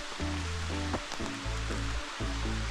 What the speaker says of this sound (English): Birds are chirping, and you can hear the waterfall in the distance.